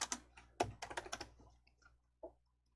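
Computer keyboard typing, close and clear: a quick run of crisp key clicks, then a pause and one last keystroke in a quiet room.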